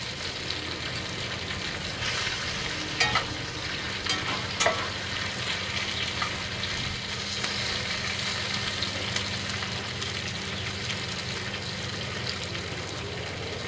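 Potatoes fry crisply in a pan over an outdoor firepit, a steady, even sizzle and crackle throughout with a couple of brief clinks, no voices.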